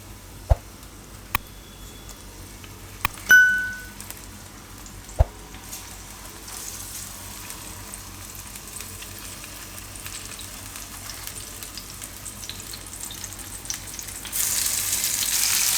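Tomato halves frying in a pan for a Gujarati tomato paneer dish, giving a faint, steady sizzle that grows slightly louder, with a few sharp utensil clicks and clatters near the start and no talking.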